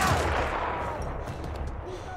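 Rapid gunfire rattles in Battlefield 1, loud dense bursts at the start easing into a fading rumble of continued shots and battle noise.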